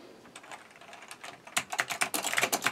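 Typing on a keyboard connected through an Anker 7-in-1 USB-C hub to a Google Pixel Slate, a run of quick close clicks that turns denser and louder in the second half.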